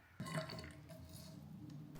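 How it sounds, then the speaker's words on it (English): Foam solution is poured into the bottle of a snow foam cannon used with a Karcher pressure washer, giving a short, soft, steady liquid trickle that starts abruptly and runs for under two seconds. "Add 100 ml of your desired foam solution."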